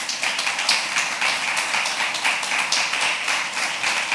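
A church congregation in a temple claps steadily, a dense continuous patter of many hands at moderate volume with no pauses.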